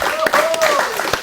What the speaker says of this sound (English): bit of a clap in the live audience